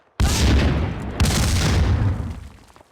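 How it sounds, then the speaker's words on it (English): A grenade blast in the shooter game Max Payne 2: a sudden loud, close boom followed by a second heavy burst, then a rumbling tail that fades out over a few seconds. "Grenade!"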